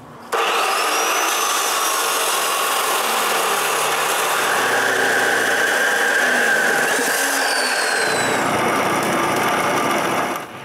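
Shafts for a homemade wooden bandsaw are cut to length in a workshop, making a loud, steady, rasping whine that runs continuously for about ten seconds before cutting off at the end.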